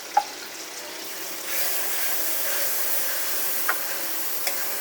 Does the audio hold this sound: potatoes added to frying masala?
yes